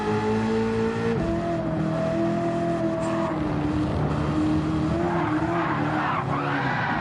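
Race car in the Gran Turismo video game skidding and bouncing, with a loud, steady engine whine and tire noise filling the whole stretch, shifting pitch as the car slides, no speech.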